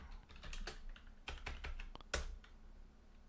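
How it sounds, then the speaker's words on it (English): Keys clack on a computer keyboard as a line of text is typed, a quick run of close, crisp strokes with short pauses between bursts and one firmer tap near the end. "And let's type a line of text."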